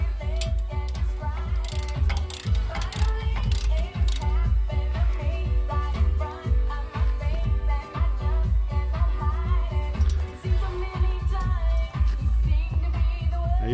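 A ratchet tightens a bolt during a brake change at home, giving a long run of quick, close, loud clicks in uneven bursts over a low mechanical rumble, with no talking.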